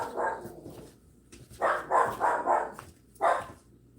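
A pet dog barks at home, one bark followed by a quick run of four and then another single bark, moderately close and faint, with no talk.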